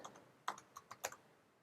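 Computer keyboard typing while a heading is entered for the About section of a Wix website: several quick, crisp key taps in an irregular burst, close and fairly quiet, with no talking.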